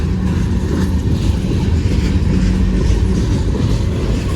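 A freight train hauling container cars rolls past in steady rain near Bayview Road in Blasdell, New York, giving a continuous loud rumble and rail clatter with no voices.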